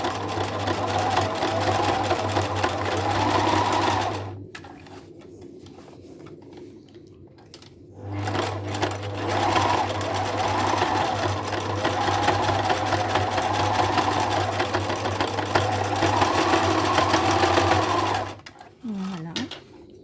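A sewing machine stitches a small back-and-forth zigzag on a washable fabric face mask, running steadily for several seconds, pausing briefly, then resuming in a long continuous run with a constant motor hum.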